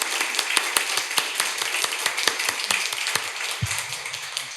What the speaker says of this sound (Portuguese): Palmas para o Dudu, porque ele não foi aplaudido.